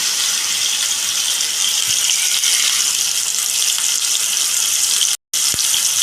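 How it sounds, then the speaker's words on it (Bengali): Water from rinsing a bowl poured into a pan of eggplant in yogurt sauce, a loud steady rushing splash held close that cuts off abruptly near the end. "বাটি ধোয়া জলটাও দিয়ে দিচ্ছি।"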